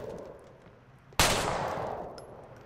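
A single loud, close gunshot in GTA IV cracks out near the middle, its echo trailing off slowly over faint background ambience.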